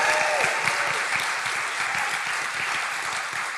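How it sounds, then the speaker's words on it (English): An audience at a one-on-one political interview event breaks into sustained applause, a dense and even clatter of many hands that holds steady throughout with no one speaking over it. "I think that applause helps explain this"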